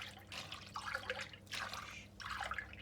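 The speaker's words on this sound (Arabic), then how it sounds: "غادي ندير 5 د الكيسان ديال الماء دافي" Warm water poured in three separate quiet splashy bursts from a cup into a bowl of semolina and flour for baghrir batter, heard up close.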